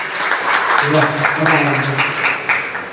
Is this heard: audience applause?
yes